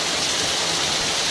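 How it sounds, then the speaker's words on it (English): Heavy rain from Hurricane Irene pours down as a dense, even hiss, steady and loud throughout the short stretch with no voices. "So we see the rain."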